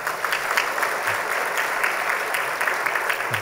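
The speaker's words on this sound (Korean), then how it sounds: "예, 박수로 환영하겠습니다." Steady applause from a church congregation welcoming visiting missionaries during a Sunday service, a dense, even patter of many hands heard from a moderate distance with no talking over it.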